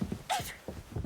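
A single short, sharp sneeze bursts out, brief and fairly close, amid quiet background.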